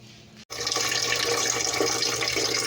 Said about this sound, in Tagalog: magpe-prepare muna ako ng tubig para gamitin sa pag-i-steam ng siopaw